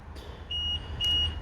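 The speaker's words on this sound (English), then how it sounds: "You can add things like this panic alarm" BMW panic alarm sounding: two loud, shrill electronic tones, each about a quarter second long, close and clear over a low background hum.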